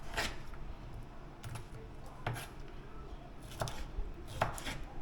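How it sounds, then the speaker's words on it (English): A knife chopping vegetables thinly on a cutting board, with sparse, irregular taps spaced about a second apart at moderate distance and faint room background, no voices. "chopping your vegetables, it's to your preference. But I found if you chop it thinly, but not too thin"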